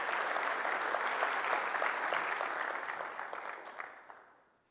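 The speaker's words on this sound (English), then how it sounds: "let's give CWMP a round of applause for this conference" Conference audience applauding in a hall, steady clapping that thins out and fades away toward the end.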